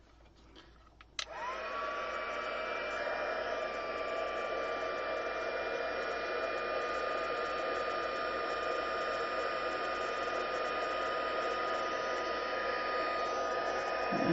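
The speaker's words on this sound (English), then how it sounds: "Let's get our heat tool out and heat that" A heat tool switches on with a sharp click and blows a steady, loud whirring hiss with a faint whine, melting copper embossing powder and running unbroken for over twelve seconds.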